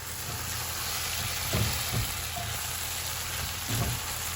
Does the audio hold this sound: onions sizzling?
yes